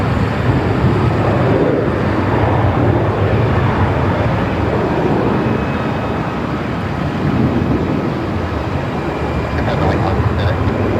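A passenger aircraft makes an intersection departure at Melbourne Airport, a steady broad roar of jet engines heard from some distance throughout, with a low rumble and people talking outdoors under it.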